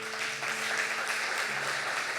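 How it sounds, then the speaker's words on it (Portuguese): A church congregation applauds during a service, a dense, steady wash of clapping from many hands filling the room, with a faint voice briefly under it. "Você pode aplaudir o Senhor."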